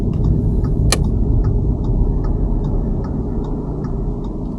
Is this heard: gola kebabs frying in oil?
no